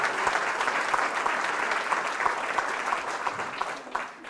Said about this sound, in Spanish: Un aplauso a todas las madres.